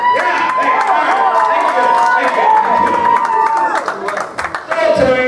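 Arena crowd at a wrestling event cheering and clapping loudly and continuously, a dense roar of voices with scattered shouts and applause, dipping briefly near the end before swelling again.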